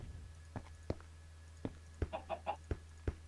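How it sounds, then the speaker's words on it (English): Chickens in the Minecraft video game, kept on a Factory Manager build, give a handful of short, sharp clucks spaced irregularly over a steady low background hum. "There are chickens there"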